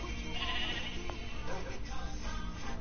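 A sheep in the Minecraft video game gives a few short, nasal bleats over a faint, steady background hum.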